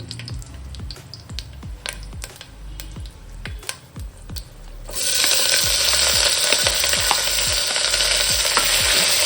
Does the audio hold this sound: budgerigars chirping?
no